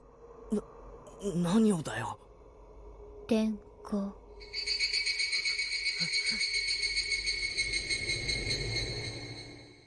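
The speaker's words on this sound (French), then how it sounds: "on entend souvent ces fameuses Higurashi chanter. Une vraie variété de cigales japonaises." A steady, shrill chorus of Japanese higurashi cicadas swells in and drones on continuously after a few brief voice sounds and clicks at the start.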